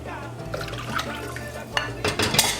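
Water being scooped from a pot of cooking white rice, with sloshing liquid and clinks of a utensil against the pot, growing busier and louder toward the end.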